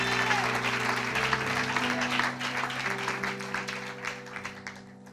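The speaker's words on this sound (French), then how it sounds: "Acclame pour l'Éternel des armées." A church congregation applauds at a prayer seminar, with dense sustained clapping over a steady musical backdrop that fades toward the end.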